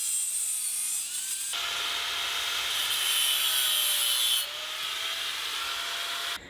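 A power saw cuts steadily through the metal front wheel mounts of a Huffy Green Machine bike frame. The rasping whine runs continuously, shifts in tone partway through, then cuts off near the end.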